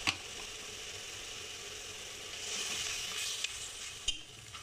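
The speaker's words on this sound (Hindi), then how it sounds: "मसाले को हम थोड़ी देर 5 मिनट भुनेंगे इसको" Spices with turmeric and kalonji fry in a pan with a soft, steady sizzle. A few sharp clinks and scrapes of stirring come through, and the sound is fairly quiet and close, with no speech.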